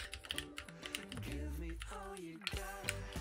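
Keystrokes on a Keychron Q1 QMK Version 2 wired mechanical keyboard, a quick run of close clicks and clacks mixed with a steady tonal background sound.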